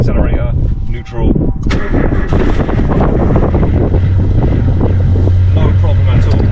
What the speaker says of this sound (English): Right, 37-year-old car, hasn't been started up for nearly a week.